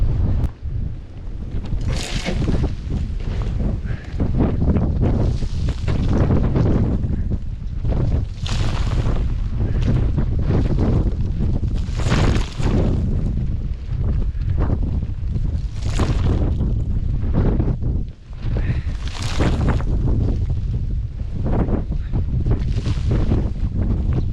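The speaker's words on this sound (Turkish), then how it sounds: "Çok rüzgar var çok." Strong gusty wind in a storm roars and rumbles against the microphone, surging in repeated blasts with brief lulls between them.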